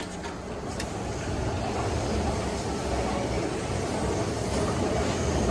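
A SEPTA Silverliner IV regional rail car on the Trenton Line to Philadelphia rolls along with a steady, loud interior rumble and a few faint rail clicks near the start.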